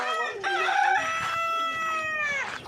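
A rooster on a farm lets out one long, loud crow close by. The call rises and holds as a strained, harmonic cock-a-doodle-doo for about two and a half seconds, with no other sounds around it.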